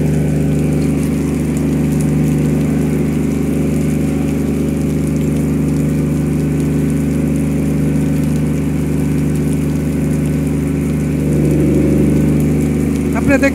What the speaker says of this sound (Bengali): জেনারেটরের মাধ্যমে কিন্তু পানি উত্তোলন করতেছে